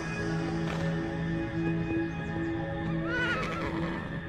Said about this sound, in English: we're looking at horses!